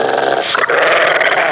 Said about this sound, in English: Dog growling.